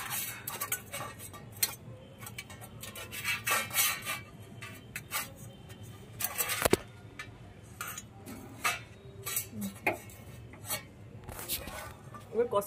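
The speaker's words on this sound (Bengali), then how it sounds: "থালার মধ্যে অল্প তেল মাখিয়ে নেব, ভালো করে মাখিয়ে নেব তেলটাকে।" Oil rubbed by hand onto a plate while preparing dhoka from ground lentils, giving soft, irregular rubbing and scraping with occasional light metallic clicks, quiet and close.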